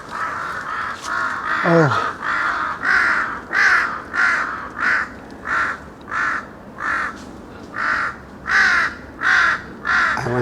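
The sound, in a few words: crows cawing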